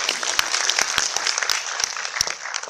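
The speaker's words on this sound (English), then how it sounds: "A big round of applause to the organizers for putting this together" Applause from a conference audience for the organizers at a developer event keynote, a brisk, fairly loud burst of many hands clapping, with sharp individual claps standing out.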